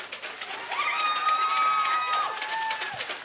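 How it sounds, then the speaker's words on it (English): An audience at a Street Fighter V Gfinity Elite Series esports event claps and cheers for the winning captain, a steady crowd roar with sustained whoops and rhythmic applause throughout. "Give them a round of applause."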